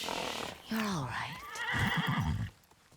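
A horse in the video game Ghost of Yotei gives a loud, close whinny with wavering pitch, followed by snorting and a few hoof clops, with a voice speaking over part of it.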